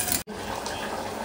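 Milk is poured into a pot of simmering vermicelli kheer, a close, soft, continuous splashing stream with a momentary break near the start.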